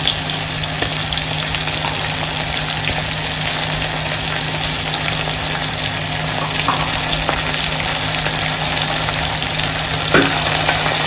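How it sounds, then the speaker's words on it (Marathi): Onion with ginger-garlic paste sautés steadily in a pan for a val khichdi, giving an even, close sizzle and crackle with light stirring throughout and no talk. "आलं लसूण आणि कांदा परतून झालेला आहे"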